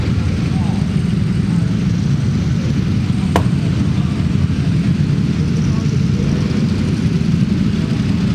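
A group of Ducati sportbikes rushes past on a race track, their engines merging into a dense, steady low roar that stays loud and constant throughout.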